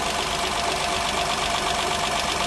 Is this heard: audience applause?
no